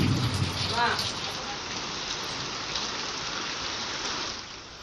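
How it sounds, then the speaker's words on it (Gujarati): Heavy downpour at the Ambaji pilgrimage town in Banaskantha, Gujarat, a steady dense hiss of rain hitting surfaces that holds at constant loudness throughout, with a faint voice briefly audible near the start. "બનાસકાંઠાના યાત્રાધામ અંબાજીમાં પણ ધોધમાર વરસાદ પડ્યો."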